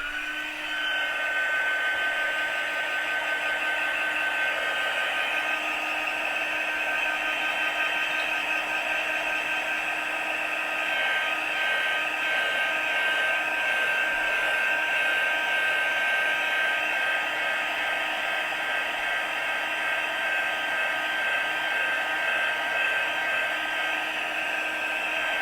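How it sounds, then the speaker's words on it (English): A heat tool blows steadily to dry ink on small alphabet craft dies, a loud, constant whooshing hum like a hair dryer that runs close and unbroken for the whole stretch. "Actually, I'm going to run my heat tool."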